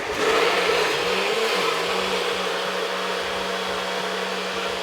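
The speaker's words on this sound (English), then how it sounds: "Let's go ahead and get my blender on." A blender runs steadily, whirring on a sustained drone as it purees a dal makhani sauce, close and loud throughout with no talk.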